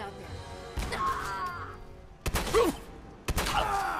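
Explosions and blasts in the Fallout 4 video game sound during survival-mode combat, with three heavy bursts of crashing impacts and debris over a continuous noisy game backdrop.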